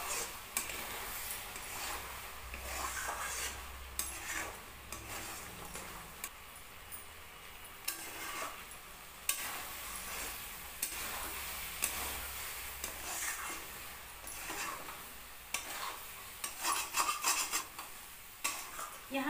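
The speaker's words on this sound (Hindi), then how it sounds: "फिर इसे अच्छे से मिला लें।" A spoon stirring mushroom and potato sabzi in a pan with oil, repeated scraping and clinking of metal on metal over a faint sizzle, steady and close.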